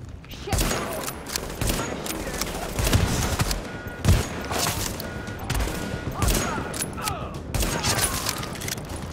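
Sustained gunfire barrage in The Division video game, dense overlapping shots and heavy thuds rolling continuously at close range, with speech mixed in.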